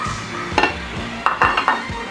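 Beef liver going into a pan of beef menudo, a few soft stirring scrapes and clinks of a utensil against the pan over a low sizzle, close and brief, no talk.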